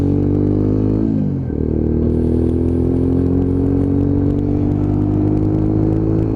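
Lexmoto ZSX-F 125 motorcycle being ridden, its small engine droning loud and close, pitch dropping sharply as the rider shifts or slows, then climbing steadily again under acceleration with constant wind noise.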